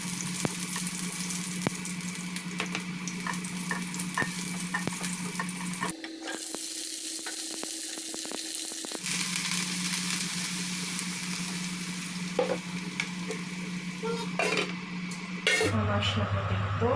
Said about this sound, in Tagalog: Let's fry our broccoli,